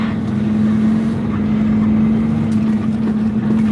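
A truck engine drones steadily as the driver works up through the gears with selector and splitter, a constant low hum with a strong tonal note running loud and unbroken throughout.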